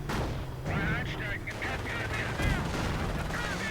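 A Pak anti-tank gun firing in a World War II real-time strategy game, heard amid dense battle noise of gunfire, explosions and rumbling, with a commentator talking over it.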